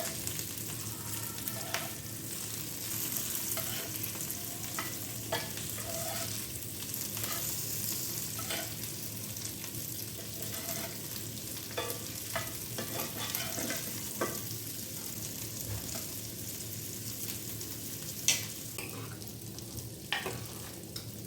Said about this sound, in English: Flip the prawns once it is cooked on one side.